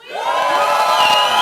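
A church audience from Queens erupts in loud cheering and screaming, the roar building quickly and holding steady as a dense wall of voices.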